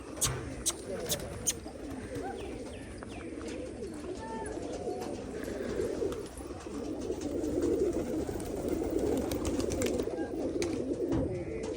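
Pigeons coo repeatedly in a wooded outdoor spot, soft rolling calls rising and falling over faint background rustle, with some quiet talk mixed in.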